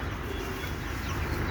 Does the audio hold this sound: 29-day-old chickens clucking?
yes